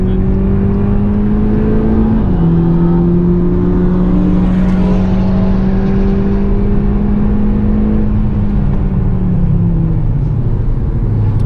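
A VW Polo GTI engine drones loud and close from inside the car on the Nürburgring Grand Prix circuit, its pitch holding steady, dipping with a shift, then easing down near the end amid road and wind roar.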